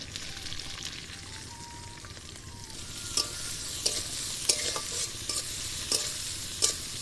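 Chopped onions, whole cumin and broken green chili fry in a hot pan for a drumstick-leaf dish, giving a steady sizzle. Sharp scrapes of a stirring spatula grow more frequent in the second half.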